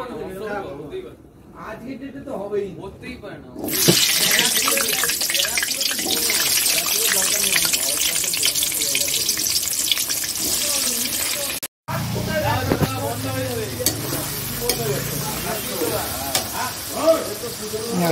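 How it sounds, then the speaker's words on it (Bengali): Sliced onions drop into hot oil and start a loud, crackling sizzle that carries on steadily, with a stirring clatter and a short break partway through, while a voice talks intermittently over the frying. "এবার তেলটা গরম হয়ে গেছে, তেলের মধ্যে পেঁয়াজটা দিয়ে দেবো"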